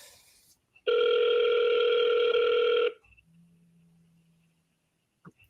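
A loud, steady electronic telephone ring tone holds for about two seconds, then cuts off, followed by a faint low hum and near silence.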